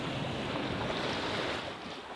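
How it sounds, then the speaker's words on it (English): A sailboat under sail with its motor off, cruising off Greenland: a steady wash of water and waves against the hull with wind noise buffeting the microphone, even and continuous throughout. "Motor's off. And we're sailing."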